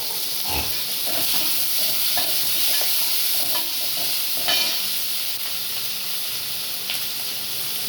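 Small onions, green chili, ginger and garlic sizzle in hot oil for a masala sundal, a steady frying hiss with a few stirring scrapes and clinks, close and continuous, with no talking.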